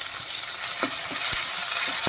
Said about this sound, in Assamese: লগতে আদা ৰচুন মছলা লগতে তেলতে ভাজি লৈছোঁ।